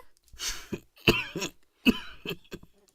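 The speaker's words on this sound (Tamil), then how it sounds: "என்னங்க என்னங்க இப்படி இருமுறீங்க" A man coughs in a few harsh, separate bursts in a radio drama, close by, with short pauses between them and no talking.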